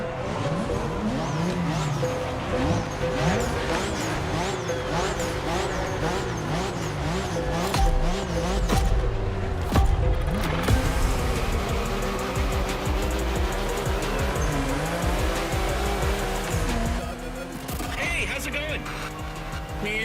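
Nissan Skyline GTR R32 racing in a video game, engine wailing through gear changes with repeated tire squeals and skids, under continuous talk throughout.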